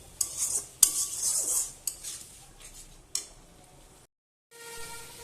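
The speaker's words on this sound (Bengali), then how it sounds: "এবার আমি মশলাটাকে ভালোভাবে কষাবো।" A spatula scrapes and clinks against a pan while spice masala with ginger-garlic paste and a little water is stirred and roasted, several sharp metallic taps over a soft sizzle, close and alone, with a brief silent gap near the end.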